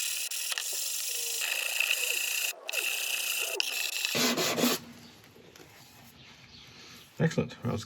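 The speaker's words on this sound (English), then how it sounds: "stick a couple of pieces of sandpaper to the surface of a board, and then rub it backwards and forwards to get a nice flat surface" Wood rubbed back and forth over sandpaper stuck to a board to flatten it: a steady close scraping rasp in repeated strokes, stopping midway, then quieter handling and a few bumps.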